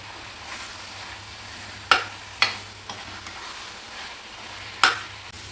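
Mushrooms frying in a pan for a mushroom gravy, a steady sizzle underneath and four or five sharp scraping stirs of a spoon against the pan, close and clear with no talking.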